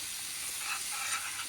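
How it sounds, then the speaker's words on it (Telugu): Malai kofta curry masala frying slowly in a pan: a soft, steady sizzle with a gentle airy hiss, faint and continuous, with no voices. "ఇది నెమ్మదిగా వేయించుకోవాలి"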